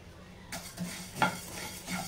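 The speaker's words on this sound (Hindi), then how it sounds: "बस हल्का गरम कर लीजिएगा, ज़्यादा मत भूनिएगा" Biryani masala spices are lightly warmed in a pan and stirred, giving soft scraping and rustling with a faint sizzle, close and quiet throughout.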